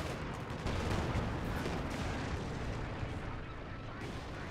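Katyusha rocket artillery fires a volley in Company of Heroes 2, producing a dense, sustained rumble of launches and blasts with crackling bursts layered over a low roar.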